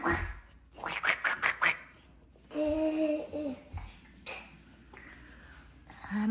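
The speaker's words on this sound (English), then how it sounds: "I'm assuming this is a duck flute." A toy duck flute gives short reedy quacking honks, a quick run of bursts followed by a longer squawk, close and fairly loud amid household noise.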